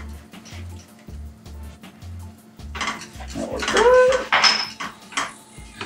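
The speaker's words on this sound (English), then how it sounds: "Keep mixing that in because you know you want that golden orange mac and cheese." Metal spoon stirring mac and cheese in a pot, with clinks and scrapes against the metal sides, starting as a few soft low knocks, then swelling into busy, close scraping and clattering, with no talk.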